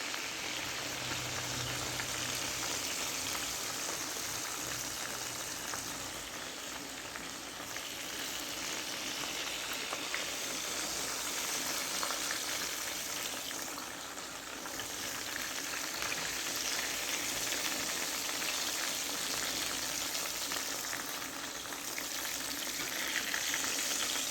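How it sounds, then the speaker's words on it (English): Steady, dense sizzling of Nutella-banana and caramel-apple egg rolls frying in hot oil, continuous and close, with faint crackles throughout and no talking. "that's what would be causing this extra little sizzle going on"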